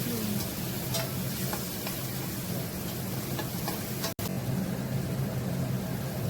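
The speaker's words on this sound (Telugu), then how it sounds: "ముందుగా చేసి పెట్టుకొని ఉంచుకున్న టమాటా ప్యూరీని వేసుకొని టమాటా పచ్చివాసన పోయేంత వరకు వేపుకుంటూ ఉండాలి." Onions and tomato puree frying in a kadai for bendakaya perugu masala give a soft, steady sizzle with faint crackles and occasional light stirring, fairly quiet, with one brief dropout midway.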